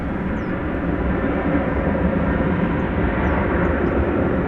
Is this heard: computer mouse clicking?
no